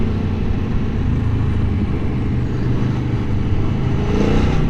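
A 2023 Aprilia Tuono V4 Factory motorcycle engine runs steadily and loudly up close, with a continuous low growl and slight rise in revs, no talk over it.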